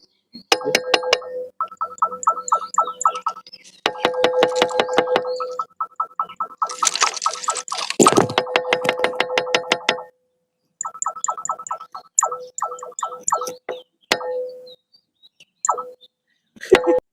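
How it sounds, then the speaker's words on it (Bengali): Rapid bursts of ringing metallic clinks as a stone strikes an iron railway track, repeated in quick runs with brief pauses between them. "ট্রেনের এই লোহার পার্টিতে আওয়াজ করছে পাথর দিয়ে"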